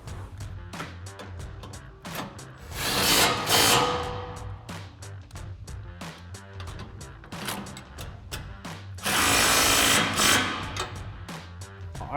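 An impact-style power tool tightening 17 and 18 mm bolts on a Westin HDX grille guard on a 2016-2023 Toyota Tacoma, firing rapid rattling bursts with two longer, louder runs, all close-up.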